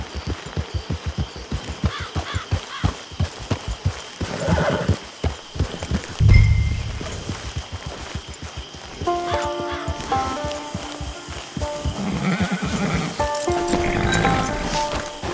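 A horse at a camp in a video game whinnies and snorts while its hooves clop in quick steady beats, then slow, with the animal close and no talking over it.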